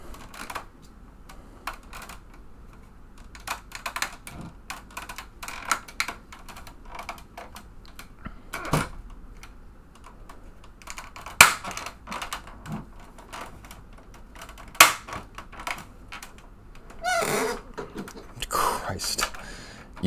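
Someone types on an old, non-USB computer keyboard, giving sparse, loud, clacky keystrokes in irregular bursts, with quiet talk and breathing now and then.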